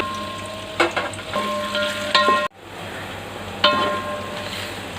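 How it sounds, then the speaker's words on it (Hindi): Onions frying in hot oil for Bukhara rice, a steady close crackling sizzle broken by sharp stirring scrapes and clanks, with one abrupt cut partway through. "साथ ही हम इसमें डाल देंगे ये प्याज। प्याज को लाइट ब्राउन करना है"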